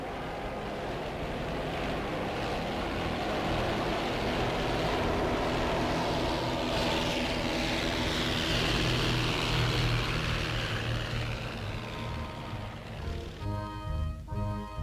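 The Hurel-Dubois experimental propeller airplane flies with a steady, droning engine hum that swells and fades gently, moderately loud and alone, with no voices present.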